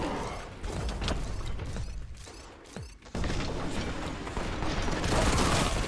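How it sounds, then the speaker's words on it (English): Crack grenade detonating in a Warhammer video game: steady mechanical, gunfire-like rumble that drops away briefly, then surges into a loud, sustained broadband burst of battle noise. "Let's see what a crack grenade does."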